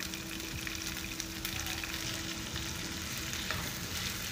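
Chopped onion, tomato and capsicum fry in a pan over a medium gas flame, giving a steady, close, dense sizzle with faint stirring scrapes throughout.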